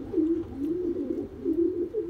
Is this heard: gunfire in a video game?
no